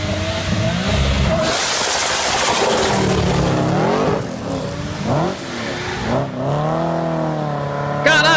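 A big-turbo Nissan Skyline with an RB26 engine revs hard, its loud engine note sweeping up and down repeatedly, with rising and falling pitch and sharp throttle blips, close by and dominating the scene.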